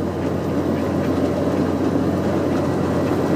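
An IVECO 240E28 truck engine drones steadily under load while accelerating on the road, a loud, continuous low rumble that holds evenly throughout with no talk.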